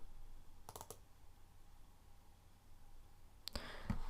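A computer mouse clicks in a quiet room, a quick burst of several light clicks early on and another cluster near the end, faint and close.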